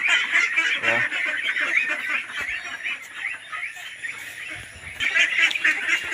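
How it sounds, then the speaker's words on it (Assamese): A flock of ducks quacks and honks repeatedly close by, the noisy chatter rising and falling in overlapping bursts. "এতিয়া মোৰ হাঁহখিনি দেখিছোঁ নহয়"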